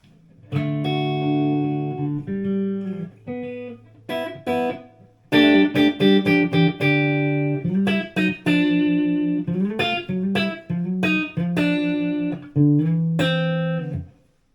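Distorted electric guitar through a Blackstar HT Club 50 tube amp and 4x12 cab plays chords and riffs in stop-start phrases, with brief pauses between loud, crunchy bursts.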